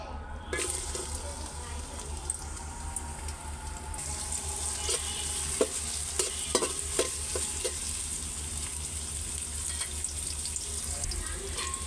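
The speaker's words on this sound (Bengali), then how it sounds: "প্রথমে পিঁয়াজটা লাল করে তারপরে চালটা আমি ভাইজা নিব" Chopped onion sizzles and fries in hot oil with turmeric, salt and green chillies, cooked in a rice cooker pot, with steady crackling and scraping stirs close by.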